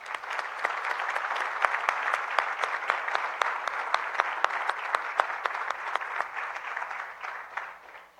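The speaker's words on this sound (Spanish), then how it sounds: "Un aplauso, por favor." An audience at a televised debate on infrastructure and concessions claps to welcome the participants, a steady, moderately loud round of applause with sharp individual claps standing out, fading slightly at the close.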